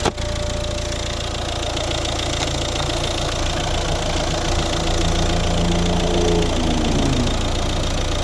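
A 2012 Volvo S60 with a 1.6 diesel engine idles steadily after starting, a loud, close, continuous clattering rumble with an even diesel knock throughout and no voices.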